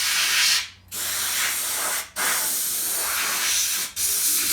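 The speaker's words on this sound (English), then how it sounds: "Just like that, just spray some in" Close aerosol spraying of Waxoyl rust protection wax into a car chassis in three long hissing bursts separated by brief pauses.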